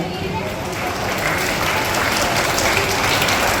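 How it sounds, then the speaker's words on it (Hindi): Loud, dense applause from an audience at a school Independence Day celebration, welcoming a guest with sustained clapping that swells slightly and continues throughout. "तालियों से भाई का स्वागत किया गया।"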